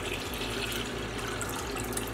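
Water from a tap gushes steadily into a cooking pot for boiling potatoes, a continuous broadband rush heard close up with no talking.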